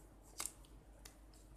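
Scissors cutting a curved leaf shape in a quiet room: two faint, close snips, the first a quick double cut, the second a single short snip, with no talking.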